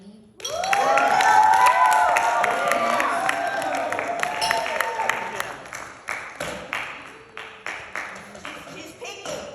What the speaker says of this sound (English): I want you to clap it up as they're doing this